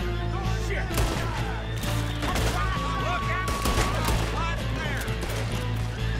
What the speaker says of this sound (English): We gotta shoot our way out again.